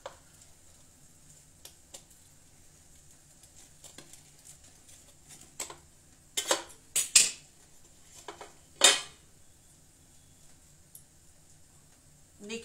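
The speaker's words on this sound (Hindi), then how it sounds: "मैं इसको थोड़ा सा आपको काट के दिखाती हूँ।" A knife cuts through a homemade sandwich on a plate in a home kitchen, with a few sharp, brief scraping and clinking strokes in quick succession against a quiet background.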